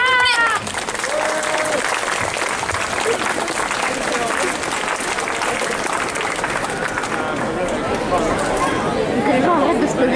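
Loud, sustained applause and cheering fill a hall at a cosplay contest during a gaming convention, with crowd chatter and occasional shouts mixed into the dense clapping.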